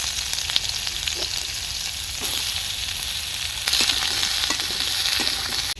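Ridge gourd pieces, bay leaf, dried and green chilies sizzling in hot mustard oil, a bright continuous crackle with sharp spattering pops and occasional stirring scrapes, close and loud with no talk.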